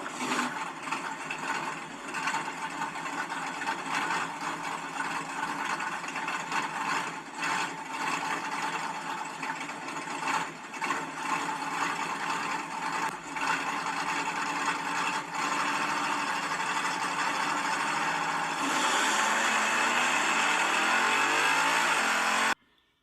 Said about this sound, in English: You can hear the car not running good on the starting line.